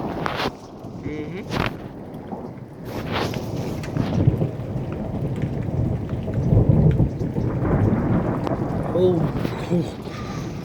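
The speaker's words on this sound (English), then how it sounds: "I don't know, it just started raining." Thunder rumbles through steady rain during a sudden storm, the downpour continuous with heavier swells of rumble building midway, while a person talks intermittently over it.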